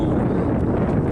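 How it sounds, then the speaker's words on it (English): Heavy wind buffets the microphone outdoors at a petrified forest museum, a loud, continuous low rumble filling the whole moment with no break. "I know the wind's bad"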